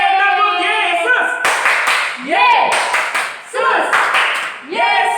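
Children at a worship service clap in rhythmic patterns between sung and chanted phrases, with sharp bursts of clapping interleaved with loud voices.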